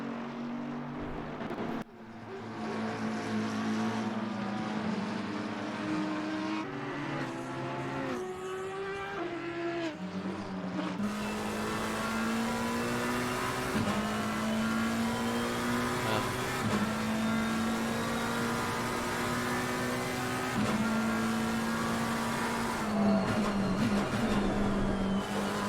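Race car engines from the Assetto Corsa Competizione sim racing game roar steadily throughout, several cars revving and shifting up a hill in a close pack, loud and continuous with occasional tire scrapes.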